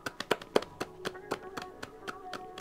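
A streamer claps his hands close to the microphone, a loose series of about a dozen crisp claps in an uneven rhythm, some louder than others, in a quiet room.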